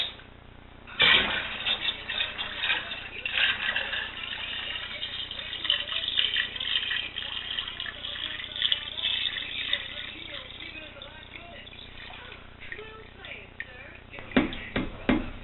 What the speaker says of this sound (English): Next, we have to top off the fermenter with water to reach our desired level.